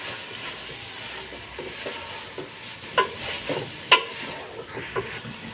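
Shredded chicken, 250 grams, being stirred with half a cup of ketchup in a hot pan for restaurant-style fried rice, giving a low continuous sizzle with a few sharp scraping clinks of the spoon against the pan.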